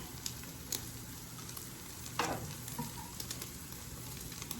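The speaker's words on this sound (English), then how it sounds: "So now I take another slice of bread and I'm just gonna let it lay in there." A large slice of sourdough French toast frying in a pan gives a quiet, continuous sizzle with scattered light pops and crackles, close by, and no voices.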